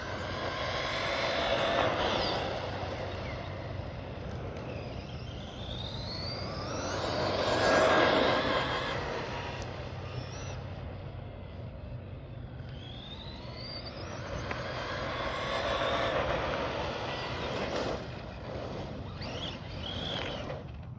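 An Arrma Big Rock RC truck running on 2S with a 26t pinion and ZTW 120A ESC gives two rising electric motor whines as it accelerates with tires spinning, swelling and fading as it passes at a moderate distance outdoors.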